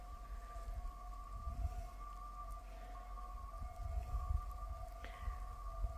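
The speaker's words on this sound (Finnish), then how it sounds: "Siellähän näkyy ambulanssiaija." An ambulance siren sounds faintly in the distance outdoors, a steady sustained wail over low wind and background rumble.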